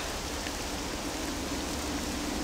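Steady, even hiss of rain falling in the video game Octopath Traveler II, a constant wash of drops with no breaks and no voices.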